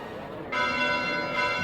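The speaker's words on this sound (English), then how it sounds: "Bells? This late at night?" Church bells ringing at night in the video game Fire Emblem Three Houses, a sustained metallic peal that swells in after a short moment and rings on steadily, with a voice heard speaking around it.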